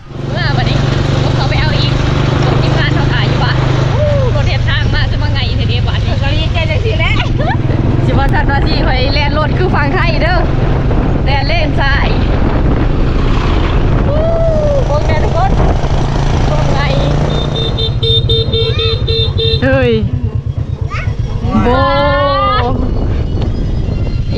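A farm tractor hauls cow manure out to a rice field, its engine a steady low drone running under nearly continuous talk for most of the stretch.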